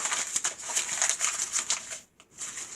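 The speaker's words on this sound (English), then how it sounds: "take that piece of paper that you have and crumple it up into a tight ball" A sheet of paper being crumpled into a tight ball by hand, a close, continuous crinkling and crackling that pauses briefly near the end before resuming.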